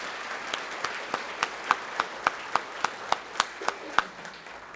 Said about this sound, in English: Would you please give them a round of applause for their hard work?